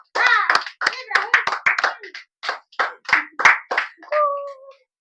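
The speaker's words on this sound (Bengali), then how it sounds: "তো হাততালি হোক একটু।" Hand clapping for the winner of a children's ball-drop game with a 100-taka prize, heard as a run of quick, uneven claps mixed with excited young voices, ending in a sustained vocal note.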